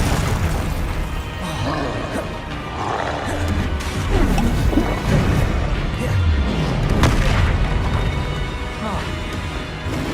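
Spell effects from the video game Hogwarts Legacy, fire, explosive and ice casts, boom and crash repeatedly in quick succession over a dense roaring combat mix, loud and continuous with no clear talk.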